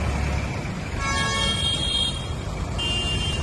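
Congested road traffic near Khadki Railway Station in Pune, where road excavation has narrowed the carriageway: a steady engine rumble and hiss with car horns honking repeatedly in short overlapping toots, near and loud.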